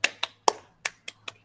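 A short clapping routine of six crisp, separate hand claps in an uneven rhythm, close and sharp, with silence between each clap.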